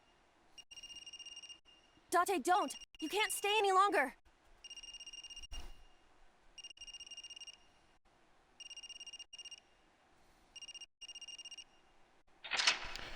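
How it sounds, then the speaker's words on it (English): A telephone rings in repeated double bursts with short pauses, clear and fairly close, while a voice shouts briefly in between. "Is that a phone ringing?"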